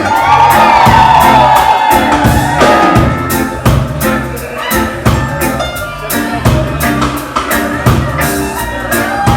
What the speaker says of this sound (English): I wanna hear all you beautiful ladies scream.